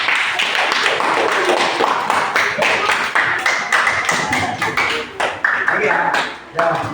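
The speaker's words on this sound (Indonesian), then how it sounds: "Beri tepuk tangan untuk kelompok 2." Classroom applause for a student group after their presentation, a dense run of hand claps and taps lasting several seconds at steady loudness before tapering off near the end.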